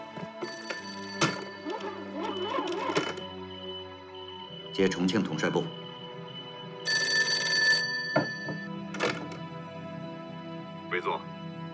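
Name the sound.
telephone ringing while connecting a call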